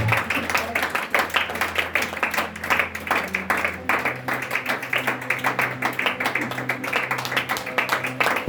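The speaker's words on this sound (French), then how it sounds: "Acclamons Jésus pour sa vie." Church congregation applauding, dense rhythmic clapping held steady for several seconds at moderate volume, with a low hum or music underneath and faint voices mixed in.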